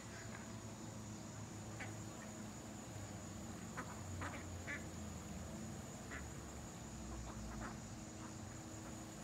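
Nearby wild ducks give sparse, faint quacks spread out over a constant outdoor hum and hiss, with no speech.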